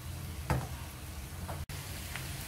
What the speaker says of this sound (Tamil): இஞ்சி வந்து கொஞ்சம் லைட்டா ஃப்ரை ஆன உடனே நம்ம அந்த வெங்காயத்தை போட்டு இதல நல்லா வதக்கிக்கலாம்